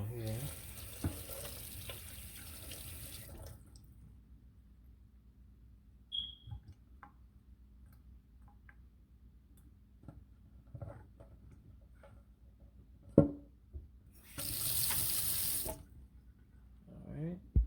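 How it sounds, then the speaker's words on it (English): Water runs from a kitchen tap into a sink while pork chops are being prepared, a quiet hiss at the start and again in a brief louder burst near the end, with faint handling clatter in between. "Put the water on here."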